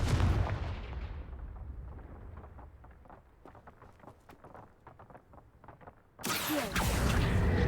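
In the video game Hogwarts Legacy, a Confringo fire spell opens with a loud roaring whoosh that decays into crackling, rumbling debris. A second sudden, dense burst of blast noise near the end is louder still.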